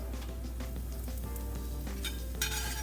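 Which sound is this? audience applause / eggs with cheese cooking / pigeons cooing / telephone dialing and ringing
eggs with cheese cooking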